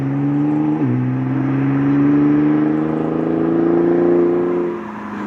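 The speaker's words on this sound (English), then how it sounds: "GTR, one of my favourite sounding V6s." A Nissan GT-R V6 engine pulls hard past on the Curborough sprint course, loud and close, with a quick gearshift dip early on, a long rising drone, then fading as it moves away.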